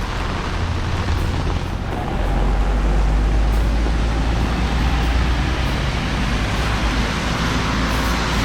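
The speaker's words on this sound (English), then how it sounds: "you continue to see a lot of traffic in town" Town traffic passes on rain-soaked streets during a tropical storm in Jaco, Costa Rica, a dense, steady hiss of wet tires and rainfall under a low engine rumble that swells and holds.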